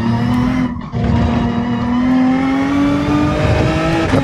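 A race car in Gran Turismo 7 slides with its rear end loose, tires squealing steadily over a loud, high-revving engine drone that holds for several seconds before a brief dip and recovery.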